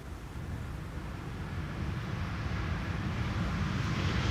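Embraer 195 E2 airliner with geared turbofan engines landing on Schiphol's Polderbaan runway 18R: a steady, distant broadband roar that slowly swells louder, mixed with wind buffeting on the microphone and no talk.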